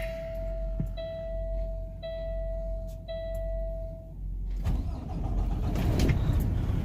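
A truck's dashboard chimes beep in repeated tones for several seconds, then the engine cranks and catches, rising into a loud close rumble that swells toward the end.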